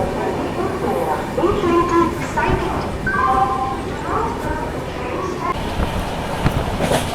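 The Kanchankanya Express, running from Sealdah toward New Mal Junction, rumbles steadily along the rails with a continuous roar and intermittent squeaks and rattles, heard from on board.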